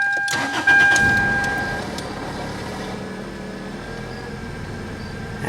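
A 1999 Toyota Corolla engine cranks and catches with a quick burst, then settles into a steady idle while a thin warning tone sounds early on.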